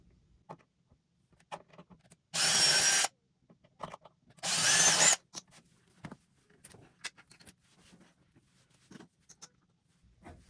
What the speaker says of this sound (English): we're going to drill a couple of pilot holes for the screws to go in.